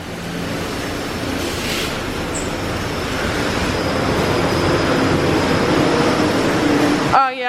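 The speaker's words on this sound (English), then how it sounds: "I'm assuming this is a spot-free rinse." Spot-free rinse spray at a Belanger Vector Rapidwash car wash in Millcreek, Utah, hisses in a steady, dense rush around the car, building slightly louder before a voice cuts in at the end.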